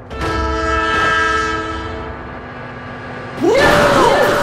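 A train blasts its horn in the driving game BeamNG Drive, a loud sustained chord over rumbling rail noise, then a second harsher burst of engine and crash sound near the end.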